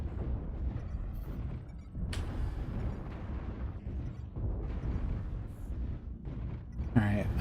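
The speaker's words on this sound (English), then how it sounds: "Missiles." Missile volleys bursting in MechWarrior Online, a series of dull rumbling explosions and impacts rolling through the game mix, with a sharper crack near the end and voice chat talking over the action.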